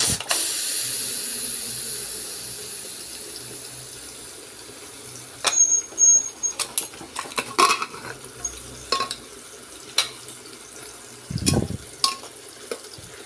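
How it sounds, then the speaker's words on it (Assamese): A pressure cooker lid comes off after cooking rajma in a home kitchen, releasing a hiss of steam that fades over several seconds, followed by scattered metallic clinks and knocks of the lid and utensils. "এতিয়া মই কুকাৰৰ ঢাকনখন খুলি দিম।"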